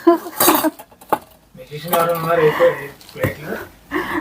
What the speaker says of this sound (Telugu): గిన్నెలు